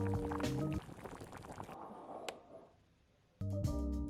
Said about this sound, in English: pour that water over the beans